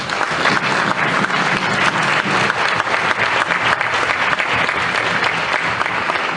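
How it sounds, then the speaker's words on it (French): Audience at a conference on waste management and the environment applauding after a presentation, dense, loud and sustained clapping from a large crowd throughout, with no talk over it. "J'ai l'impression qu'on a applaudi lorsqu'il a terminé."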